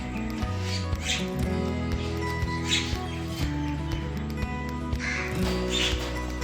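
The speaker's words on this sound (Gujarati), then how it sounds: "આપણો કાકડા આવી ગયા છે" Crows caw repeatedly at a distance over a steady low hum of background noise, with no one speaking.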